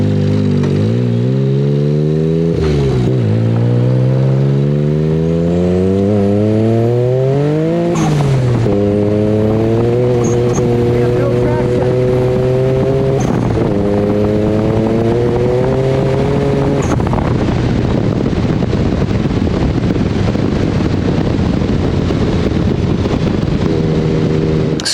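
A Mirage off-road buggy with a 300hp+ tune revs and accelerates along steep dirt trails, its engine note climbing and dropping through repeated gear changes, loud and close for the whole stretch, with no talking.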